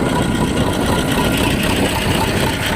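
An old T-25 tractor engine runs steadily in winter snow, a continuous close idling drone with low knocking rumble and no pauses throughout.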